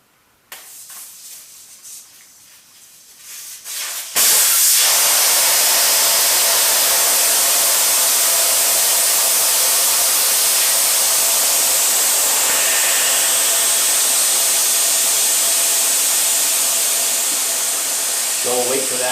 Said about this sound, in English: You're going to want to pull your valve core out to deflate the tire